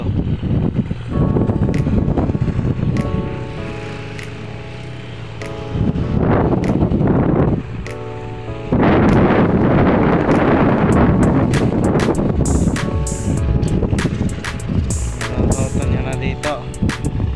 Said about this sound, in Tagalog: Yan si Tito nagro-roto na dito.